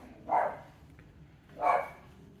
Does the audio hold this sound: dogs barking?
yes